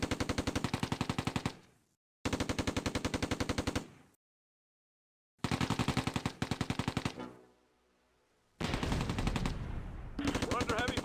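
Long rattling bursts of machine-gun fire in the wartime strategy game Close Combat: A Bridge Too Far, loud and close, broken by short silences and a brief lull before the firing resumes.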